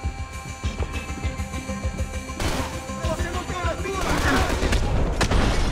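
Rapid SMG bursts in the video game Max Payne 3, a quick rattling chain of close, loud shots that gives way to heavier impacts and crashing debris.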